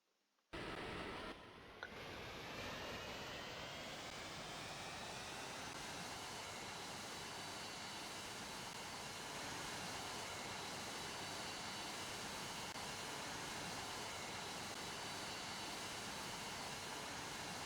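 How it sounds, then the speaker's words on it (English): Airbus A380 jet engines in the PTFS flight game roar steadily and close. A sharp onset is followed by a constant broadband rumble and whine that runs unbroken throughout, with no talk. "let's go ahead and spawn a Airbus A380 and try."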